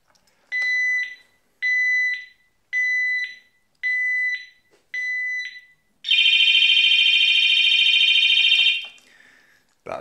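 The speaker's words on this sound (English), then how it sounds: "you'll get a series of bleeps. Then you'll get the siren for a few seconds." An Oxford Max Duo lock alarm gives five evenly spaced loud two-tone bleeps, each about half a second, then a continuous piercing siren for roughly three seconds before it cuts off, close and alone.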